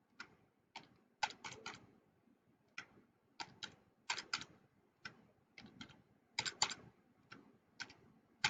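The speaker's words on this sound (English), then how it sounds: "I'm going to use the keyboard to type these in quick." Keys clatter on a computer keyboard as numbers are typed in quickly, with bursts of rapid clicks separated by short pauses. The sound is close and crisp and there is no talking.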